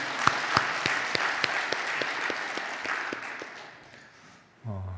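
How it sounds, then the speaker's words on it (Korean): A church congregation applauds during a Sunday worship service. The clapping is moderately loud, with a few sharp claps standing out at the start, then thins and fades before a voice begins at the very end. "우리 하나님께 영광의 박수 하겠습니다"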